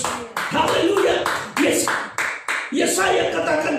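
A church congregation claps in bursts of hands, loud and rhythmic in several waves, with voices mixed in among the applause.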